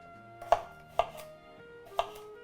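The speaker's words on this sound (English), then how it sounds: "I guess we'll cut up the cucumbers though to make things a bit more presentable." A knife chops through cucumbers on a cutting board, four sharp distinct cuts in a steady rhythm, close and clear with no talk.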